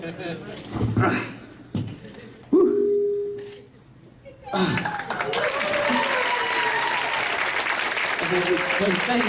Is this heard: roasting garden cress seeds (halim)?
no